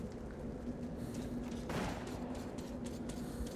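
A companion fires a gun in Metro 2033 Redux, heard as faint, distant gunfire. One burst stands out midway over a steady low hum, and no one speaks.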